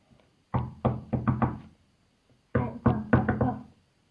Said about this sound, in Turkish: varilleri şöyle bir ritimle tıklatmanız lazımdır